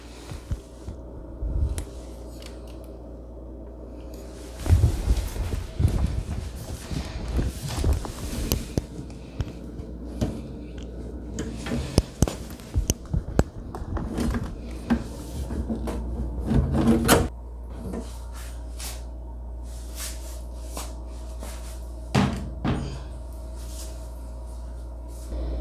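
Plastic crisper drawer on a Thor TRF2401U refrigerator being unlatched on its side and slid out, giving a run of close clicks, knocks and scraping rattles with a burst of handling noise midway.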